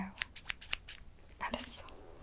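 Scissors snip through hair while cutting bangs in a close, quiet setting, a quick series of about five crisp clicks followed by a few softer snips.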